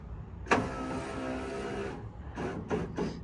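Electric driver-side window on a 1967 Chrysler Imperial sliding down, a close steady motor whir for about a second and a half, followed by a few short whirring bursts.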